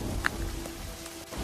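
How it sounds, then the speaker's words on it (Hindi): Heavy rain falls as a steady, even hiss of dense drops at a low, constant level, with no distinct thunderclap standing out. "कड़कने लगती है और भयंकर बारिश शुरू हो जाती है।"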